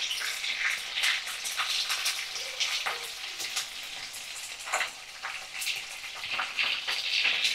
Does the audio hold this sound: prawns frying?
yes